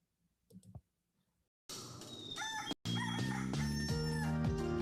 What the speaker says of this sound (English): A little cock-a-doodle-doo just for you.